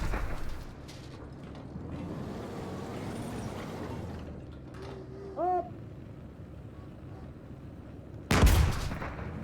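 Tank artillery fires in the GHPC video game: a single sharp, loud boom near the end, preceded by quiet rumbling background and brief synthetic tones.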